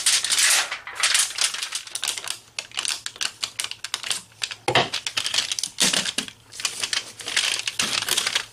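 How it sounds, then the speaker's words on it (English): Aluminum foil being wrapped around a knife before it goes into a furnace: close, continuous crinkling and crumpling with dense rapid crackles throughout, with no talking. "We'll get Rand's knife foil wrapped."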